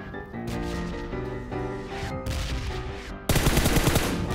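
Gunfire in a shooter video game, where a shotgun is in use: repeated loud shots and bursts from a nearby weapon, growing denser and harsher toward the end, with no talking.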